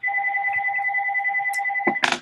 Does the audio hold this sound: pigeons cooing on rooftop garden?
no